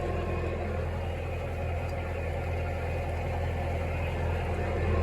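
Tractor engine idling out in a hay field being raked for first cut hay, a steady low mechanical drone held close and even throughout.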